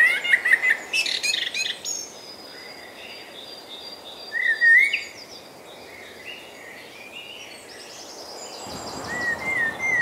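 Many birds call through a jungle: bright chirps and tweets overlap and trade back and forth over a steady backdrop of faint insect hum, with no voices.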